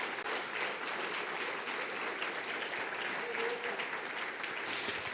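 A church congregation claps together in steady, dense applause that fills the room, fairly close and evenly sustained throughout with no break.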